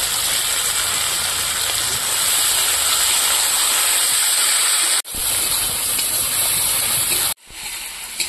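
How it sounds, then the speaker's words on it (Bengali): Chopped onion and tomato fry together in a pan, giving a loud, steady sizzling hiss close by that runs throughout with two brief breaks. "এই টমেটোটাও আমি পেঁয়াজের মধ্যে দিয়ে একসঙ্গে ভেজে নেব"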